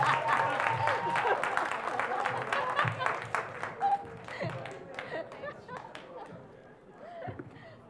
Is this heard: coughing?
no